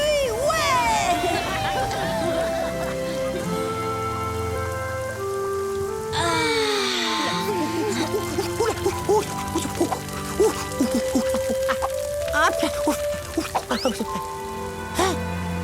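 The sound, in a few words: rain falling, in a cartoon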